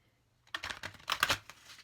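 Tarot cards being shuffled by hand close to the listener, a faint papery flutter arriving in a few quick bursts after a moment of near silence.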